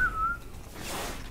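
Whistling in the video game Destiny: a single short whistled tone at the start, fading into faint ambient game noise.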